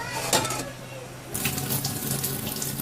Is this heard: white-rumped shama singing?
no